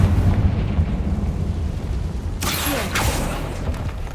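The Confringo explosion spell in Hogwarts Legacy: a sharp burst and whoosh of blast noise over a low game rumble, with a second flare soon after as it fades.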